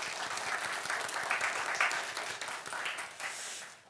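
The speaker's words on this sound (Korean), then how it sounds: "격려의 박수 한번 주세요" A church congregation at a Sunday worship service breaks into applause, a full, even wash of clapping that holds steady and then tapers off near the end.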